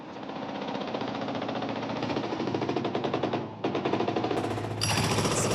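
Heavy machinery demolishing a building used as a drug dealing spot in a housing estate, a loud rapid pounding like a hydraulic breaker hammering steadily, with rumbling engine beneath and a brief pause midway.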